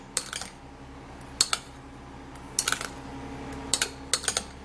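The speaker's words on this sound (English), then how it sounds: "I have some egg here, and then I'm gonna be putting that in, and then mix it really good" Egg is mixed in a bowl with a utensil, making sharp clinking taps in short clustered bursts separated by pauses, close and fairly quiet.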